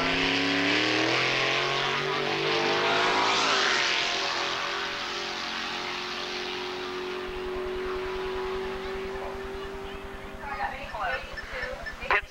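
A Camaro drag car runs down the strip at a 1987 dragway event, a loud engine roar with rising tones that fades as it pulls away, while an announcer talks over it.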